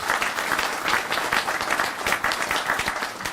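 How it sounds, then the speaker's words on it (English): A crowd at a bypass grand opening applauds owners of classic cars, a loud, continuous rush of many hands clapping close by, with no talk over it. "So we want to give them a round of applause."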